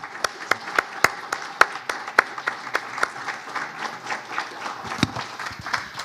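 Audience applause at a young historians' conference honouring award-winning filmmakers, a thin, sparse round of distinct hand claps at a moderate distance, continuing steadily without speech.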